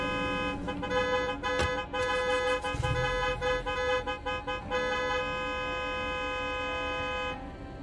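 A car horn in State of Decay 2 honks repeatedly in an irregular series of blasts, some short and one longer, loud and close, then stops near the end with no voices over it.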